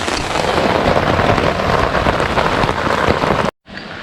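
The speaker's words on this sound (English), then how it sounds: "even though it is lightly raining still" Steady, dense rain patters on surfaces at a campsite on the North Shore of Lake Superior, filling the sound evenly before cutting out briefly near the end and resuming more quietly.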